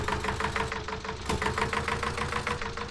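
An Eicher 241 tractor in the video game Farming Simulator 19 pulls a very large trolley, its engine chugging with a loud, steady rhythmic knock close up and no speech.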